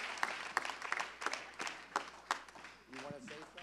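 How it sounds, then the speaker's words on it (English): Applause from a church congregation, heard as a run of sharp, fairly regular claps with voices mixed in, ending in talk. "Let's give her another round of applause."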